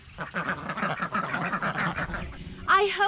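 Ducks on a 4-H farm quack repeatedly in a busy, overlapping chorus at moderate distance, with a sharper, louder call rising near the end.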